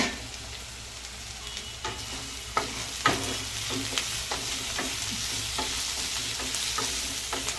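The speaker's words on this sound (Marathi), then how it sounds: "एकदा मिक्स करून घेऊया आपण छान ह्यात आता आपण मिक्स करतो आहे" Paneer bhurji being stirred in a hot pan, a continuous soft sizzle punctuated by repeated spoon scrapes and taps against the pan, close and alone without talk.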